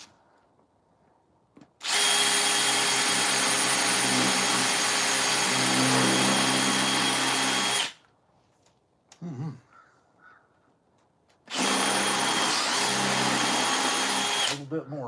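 Power drill boring into a wooden chainsaw-carved piece, two long steady high-pitched runs of about six and three seconds, loud and close, with brief quieter handling and a short voice between them.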